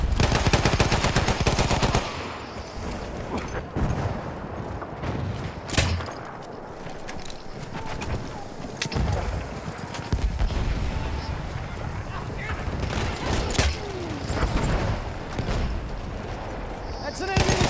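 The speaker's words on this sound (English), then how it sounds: "That's an enemy machine gun." Enemy machine gun fire in a World War I shooter on the Argonne Forest map, sharp repeated bursts and crackling shots amid a dense, loud battlefield din, with a player talking over it.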